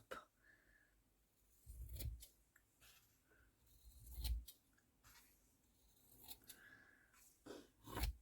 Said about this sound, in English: so I can cut another bit off here, get rid of that bit that's curled up